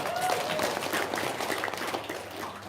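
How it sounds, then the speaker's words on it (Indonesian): Audience clapping at a lively testimonial gathering, a dense burst of applause that carries on steadily at moderate loudness for a few seconds. "Tepuk tangan dulu dong."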